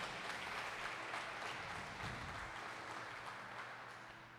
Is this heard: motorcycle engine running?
no